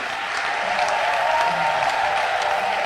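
An audience at a spiritual gathering applauds and cheers in steady, loud, continuous clapping that fills the whole moment, with crowd noise blended in.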